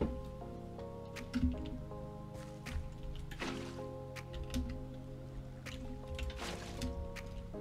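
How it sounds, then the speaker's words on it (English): Water pours into a dug hole in Minecraft with soft, repeated liquid splashes and dripping sounds, quiet and intermittent over ambient game tones. "so now we're gonna fill this with water"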